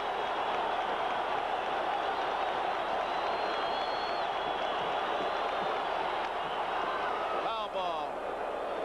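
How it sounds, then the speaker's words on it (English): Crowd in the stands at Game 1 of the 1980 World Series, Royals vs Phillies, a steady, dense roar and cheer from a large baseball stadium audience that runs throughout, with no talk. "Listen to the crowd."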